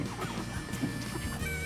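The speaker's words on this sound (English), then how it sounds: "I think I've gotten a good relationship with these chickens." Chickens cluck and call around a tiny homestead in the woods, soft and fairly close, over a steady background hiss with no talking.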